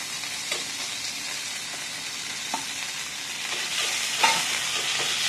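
Ginger paste and spices frying and being stirred in a pan, a steady close sizzle with occasional scraping clicks, with no talking.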